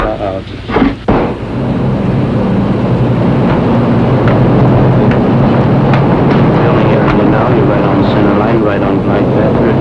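An airplane on final landing approach to the runway, a mile from touchdown, passing overhead with a loud, rumbling roar that swells after a brief dip and holds steady; someone talks over it.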